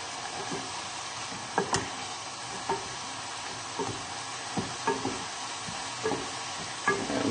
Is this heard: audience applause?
no